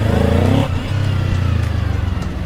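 2024 Kawasaki Ninja 7 Hybrid motorcycle accelerating hard in boost mode, the engine note climbing in pitch before a shift and then a steady, loud, close roar as it pulls away.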